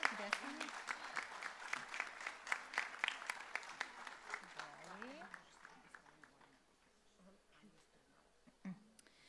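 Applause from an audience at a Serbian singing festival award ceremony, a dense patter of clapping that fades to sparse claps by the end, with voices over it.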